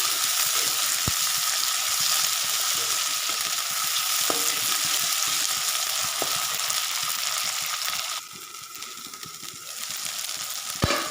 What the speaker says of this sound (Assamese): এনেদৰে ভাজি থাকিম।